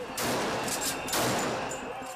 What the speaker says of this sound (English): Tear gas and rubber bullets hound the protesters.